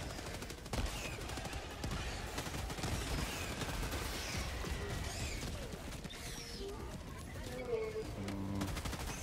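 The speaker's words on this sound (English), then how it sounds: "dropping orbital barrage over there" Orbital barrage strikes in Helldivers 2 land as a continuous rumble of blasts and crackling fire, medium-distance and steady throughout, mixed with game effects and scattered voices.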